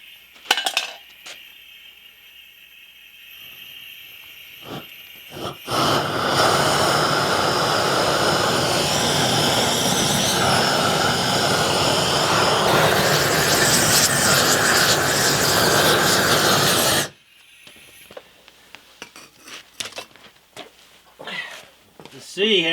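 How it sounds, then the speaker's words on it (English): A blowtorch flame heats the ring gear of a cement mixer during restoration, a loud steady roaring hiss lasting about ten seconds, framed by metal clanks and handling noises in a workshop. "I'll get the torch."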